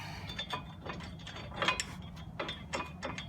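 A hand ratchet clicking rapidly as it runs in a brake caliper bracket bolt on a 2004 Cadillac Escalade during a front pad and rotor job, a close, steady metallic ratcheting with no talk.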